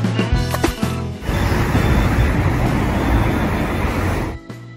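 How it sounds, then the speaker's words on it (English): A school bus rumbles in a steady, loud broadband roar after a brief clattering start, holding for several seconds before cutting off abruptly. "School bus."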